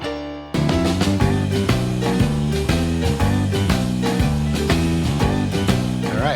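Piano with EQ and compression on its mix bus, both hands playing full, rhythmic chords that sit evenly and close, with no one talking.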